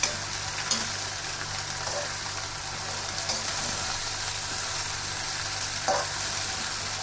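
Cauliflower and potato fry in a pan with a continuous dense sizzle while being mixed, and a few faint scrapes of stirring sit under the steady hiss.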